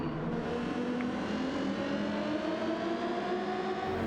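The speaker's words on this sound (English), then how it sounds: "Then accelerate out for full speed, full acceleration." A race car in Gran Turismo 7 at Autopolis accelerates out of a corner, its engine note climbing steadily in pitch, a smooth continuous rising whine at constant loudness.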